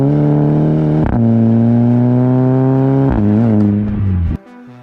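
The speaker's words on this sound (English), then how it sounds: "GTI are one of the only like small liter engines that sound absolutely beautiful" A loud, steady Volkswagen GTI engine drone with a strong aftermarket exhaust tone, rising slightly in pitch through a few gear-like shifts before cutting off abruptly near the end.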